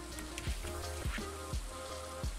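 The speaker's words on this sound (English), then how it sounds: "Oh, is it a rainy day again?" Rain falling in the Stardew Valley video game, a soft steady patter of raindrops under looping game music with faint repeating low thumps, fairly quiet throughout.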